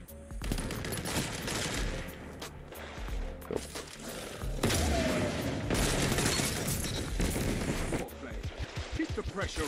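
Rapid automatic gunfire from a weapon in the video game Destiny crackles in dense bursts with short gaps, loud and close, mixed with game effects and brief talk.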